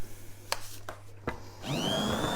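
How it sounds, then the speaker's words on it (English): A hand blender starts up in pancake batter for mango and banana buttermilk pancakes, preceded by a few short knocks, then a steady close whirring motor hum that runs to the end. "I'm going to hand blend."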